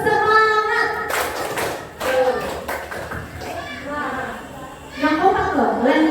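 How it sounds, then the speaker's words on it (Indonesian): A class of children in an inclusive lesson does the rhythmic 'tepuk semangat' spirit clap, bursts of sharp patterned claps mixed with chanted voices and a teacher speaking between rounds. "Tepuk semangat."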